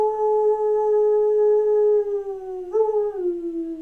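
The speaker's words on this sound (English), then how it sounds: "you hear the howls of a wolf off in the Okay. distance." A lone wolf howls in a long, sustained wavering tone that slides downward, then rises briefly and falls again, clear against a quiet background.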